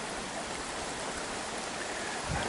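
A creek after heavy rain flows steadily nearby, a dense even rushing hiss with no breaks and no voices.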